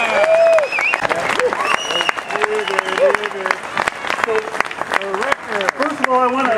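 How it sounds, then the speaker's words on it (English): Crowd applause at a Tax Day Tea Party rally in Corning, New York, mixed with loud voices and shouts throughout, with claps scattered beneath the chatter. "Give them another round of applause for their great job here."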